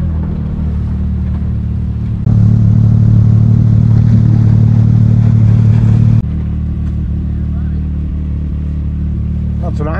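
A car engine revs hard in front of a shop during a race run, a loud steady roar for about four seconds that drops back to a lower rumble. Speech-like murmur sits under the engine throughout.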